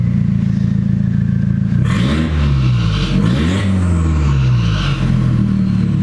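A loud, raw engine in a Mk2 Volkswagen Golf with a 1.8 turbo conversion and its exhaust removed idles roughly, then revs up sharply a few times with a harsh unmuffled roar before settling back to a rumbling idle.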